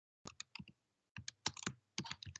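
Typing on a computer keyboard comes in quick bursts of crisp, close key clicks separated by short pauses, with no voices.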